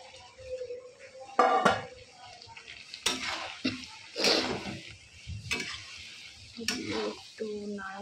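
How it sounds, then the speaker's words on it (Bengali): Fried soybean chunks and potatoes tumble into a pan and get stirred, with uneven bursts of clattering metal, scraping, and brief sizzles between quieter gaps. "এবার আমি সয়াবিন আলুটা যে ভেজে রেখেছি ওটা এর মধ্যে দিয়ে দেবো।"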